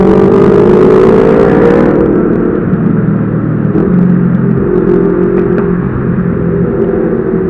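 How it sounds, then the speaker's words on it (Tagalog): Steady road traffic on the SLEX expressway, a continuous loud rumble and whir of many vehicles with a brief engine surge early on, no talking. "Traffic ganitong oras sa SLEX, ang daming sasakyan."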